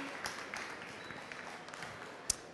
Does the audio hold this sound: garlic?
no